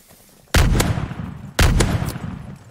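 Two sharp, loud gunshots from a video game, a little over a second apart, each cracking sharply before trailing off into a reverberant tail, with no talking over them.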